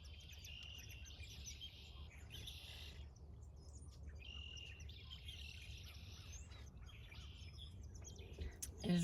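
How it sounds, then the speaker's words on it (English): Morning birdsong carries faintly from a distance: scattered chirps and tweets over a soft, steady hum of insects, with no voices. "It is really birdy this morning."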